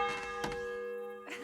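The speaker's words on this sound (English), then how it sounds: "It's a nice bell." Bell rung in a medieval video game, a steady ringing tone with layered harmonics sustained throughout, with soft knocking thuds at the start and end.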